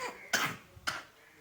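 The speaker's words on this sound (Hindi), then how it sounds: "खांसी हो रही है" A sick child coughs twice in separate, quiet, dry bursts, close by, with no speech.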